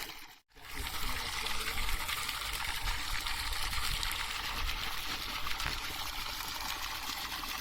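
Steady rush of water pouring from a newly installed 2 HP Alarko submersible well pump, running slightly muddy, a continuous dense flow after a brief pause at the start.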